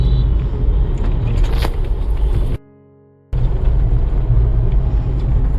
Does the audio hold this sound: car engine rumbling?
yes